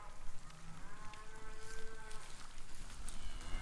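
Cattle moo on an open pasture, drawn-out low calls at moderate distance over a steady outdoor background, with a faint patter of rain or wind noise.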